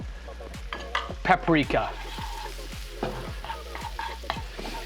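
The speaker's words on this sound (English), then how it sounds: "So we're trying to really cook out the spices with the onions." Pork, onions, cumin, coriander and smoked paprika sizzle in a hot pan while being stirred, with repeated scraping strokes over a steady fry and a voice talking briefly.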